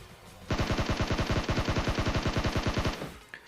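Automatic gunfire in a battle royale mobile game played on an iPad Mini 5 comes as one loud close burst of about two dozen evenly spaced rapid shots lasting roughly two and a half seconds, then a single faint click.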